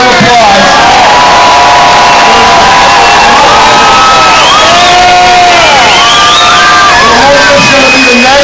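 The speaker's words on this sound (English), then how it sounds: "Let's hear a round of applause." Loud, close crowd at a Boston mayoral campaign kickoff breaking into applause and cheering, with whoops and high shouts rising over a dense roar that fills the whole stretch.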